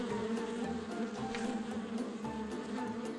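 A steady ground-bee buzz hums throughout, dense and continuous, like several bees swarming close by with no voices.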